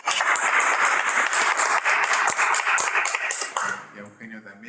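A lecture audience breaks into a short burst of applause, brisk clapping lasting a few seconds before fading as a voice begins speaking.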